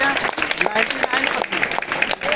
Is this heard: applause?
yes